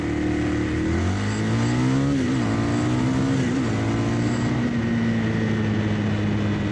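A Ducati Sport Classic 1000S motorcycle races on a track, its engine droning loud and steady with pitch rising and dipping through gear changes for the full stretch, close and continuous with no talk.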